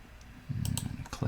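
Computer mouse clicks during desktop editing work, a few soft, quick clicks close by, heard alone without talk.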